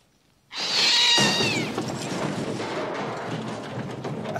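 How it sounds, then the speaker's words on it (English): A cat in a horror film lets out a sudden loud, wavering yowl from near silence, followed by a thud and a sustained tense, noisy score. "I knew it was just going to be a cat"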